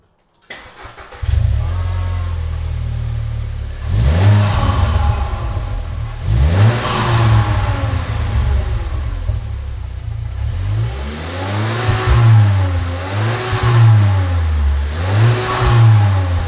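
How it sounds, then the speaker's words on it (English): A VW Jetta Mk7 fitted with a quad exhaust starts up close by and idles, then is revved repeatedly in loud rising and falling bursts, with the later revs coming in quick succession. "we're going to start it up and see what kind of noise we can produce"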